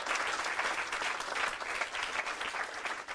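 A church congregation applauds the Lord during a French-language healing service, dense sustained clapping from many hands, steady and fairly distant, with no clear voices above it.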